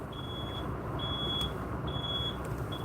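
Reversing beeps from an ambulette backing up on a New York street sound as a steady series of evenly spaced electronic tones over constant traffic and engine rumble.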